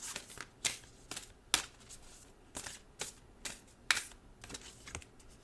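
Animal Dreaming oracle cards are shuffled by hand, giving a series of crisp, rhythmic riffling snaps close up, with no talking.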